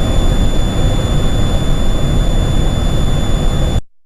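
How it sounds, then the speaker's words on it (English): A hummingbird tail feather held in a wind tunnel airstream sings with several steady, pure tones over a loud, continuous rush of blowing air, holding unchanged until it cuts off abruptly near the end. "when you put a feather in a wind tunnel, it'll sound like this"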